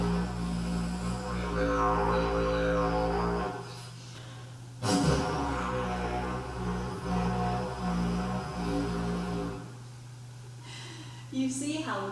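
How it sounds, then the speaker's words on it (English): A very long didgeridoo plays a low, steady drone that hums throughout, with a brief break midway and some breathy textures layered over it. "What if we have a really long didgeridoo?"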